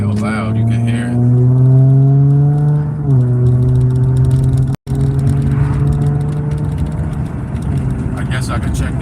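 A car engine drones loudly while driving, its pitch rising then dropping as it shifts, with a rattle and a voice talking over it, just after a change to Valvoline oil that left the level not full.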